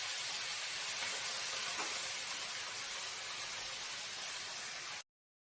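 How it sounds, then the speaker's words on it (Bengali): Cabbage fries in a hot pan and gives off a steady, fairly faint sizzling hiss that runs unbroken, then cuts off abruptly. Nobody speaks. "বাঁধাকপিগুলো দিয়েও ভালো করে নাড়িয়ে চাড়িয়ে নেব।"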